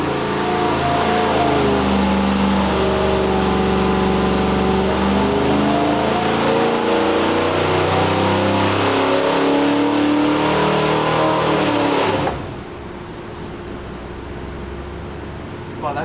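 Loud, sustained roar of a carbureted engine being run up on a reverse rotation dyno, its pitch climbing steadily before abruptly dropping to a low idle rumble.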